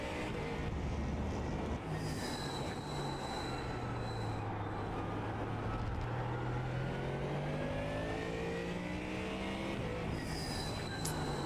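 Ford Mustang GT3 race car engine in a racing video game at Fuji, a steady loud drone with rising and falling pitch sweeps as the car accelerates and shifts through the gears, continuous throughout.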